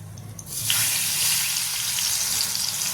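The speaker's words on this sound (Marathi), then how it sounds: "तर आता याच्यामध्ये आपण काय करायचं हे सगळं मिश्रण टाकून द्यायचं" A spice mixture hits a hot pan for palak paneer, bursting into a loud, steady sizzle that starts abruptly and crackles on, close and continuous.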